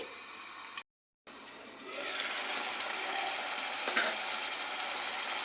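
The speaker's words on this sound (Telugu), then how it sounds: "ఉల్లిగడ్డలు అయితే ఇక్కడ వేగుతున్నాయి" Onions sizzle steadily in a lidded pan for a Telugu chennangi leaf curry, a close, even crackle that starts after a short silent gap and continues to the end with no talking.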